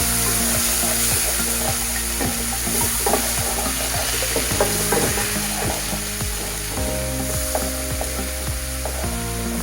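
Oil frying for a katla fish kalia curry, a dense continuous sizzle with a rapid clicking, ratchet-like rattle of utensil strokes throughout, close and loud, without speech.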